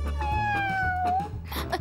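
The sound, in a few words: cat meowing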